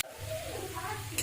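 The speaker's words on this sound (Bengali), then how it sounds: "এবার ভালোভাবে মোচাটা কষিয়ে নেব।" Banana flower (mocha) stir-fried in a pan with salt and turmeric, giving a steady close sizzle with light stirring scrapes, and a brief clatter near the end.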